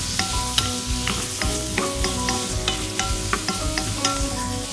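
Pork stir-fries in sesame oil in a pot, a steady loud sizzle broken by repeated scraping and clinking as the meat is stirred.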